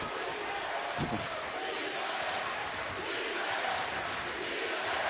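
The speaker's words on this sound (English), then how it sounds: "Crowd trying to get into it" A full-house basketball arena crowd in Arlington roars during an NIT quarterfinal game, a dense continuous cheer with a sharp thump near the start, heard at moderate distance.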